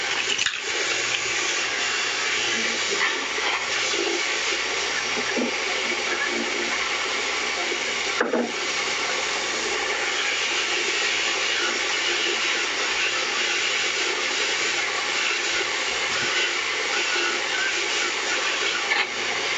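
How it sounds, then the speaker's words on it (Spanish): A torch hisses while soldering silver rose earrings, a loud, unbroken roaring hiss that runs throughout, with one brief click partway through. "ahora vamos a empezar a soldar. Así se suelda."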